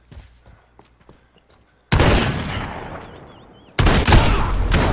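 Call of Duty: Modern Warfare (2019) gunfire: a few faint clicks, then two long, loud volleys of rapid shots in close succession.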